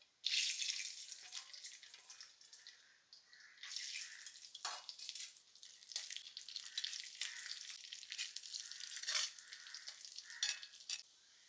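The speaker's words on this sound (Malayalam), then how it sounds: "ദാ ഇനി നമ്മുടെ കാഷ്യൂ മുന്തിരി ഒന്ന് വറുത്തെടുത്തേക്കാവേ" Cashews and raisins frying in oil for a birthday beef biryani, a fairly soft, crackling sizzle that rises and falls as they are stirred, with no voices.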